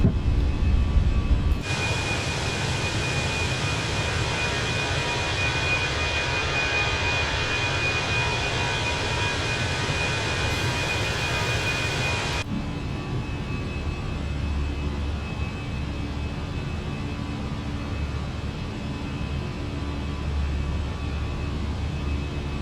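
Airbus A320 jet engines roar steadily at high thrust during the takeoff climb in a flight simulator, a loud continuous broadband rumble with a faint tonal whine, dropping to a quieter hum partway through.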